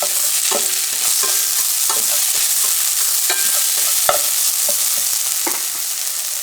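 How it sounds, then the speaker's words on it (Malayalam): Crushed garlic, ginger and green chilies sauté in a hot pan, a steady loud sizzle broken by repeated spoon scrapes and stirring clicks, with no talking. "ജസ്റ്റ് ഒന്ന് സോട്ട് ചെയ്ത് കൊടുക്കാം."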